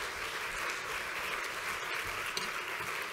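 An audience applauds to welcome a speaker at a live evening lecture, with dense, steady clapping that fills the room and continues evenly throughout without any voices.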